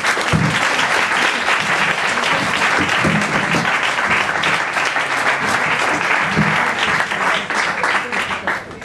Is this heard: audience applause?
yes